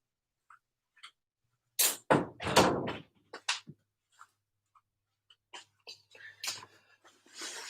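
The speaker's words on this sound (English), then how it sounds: "I'm going to shut this door just real quick." An indoor door swings closed in a quiet room, making a cluster of soft thuds and clunks. A few small taps and rattles follow.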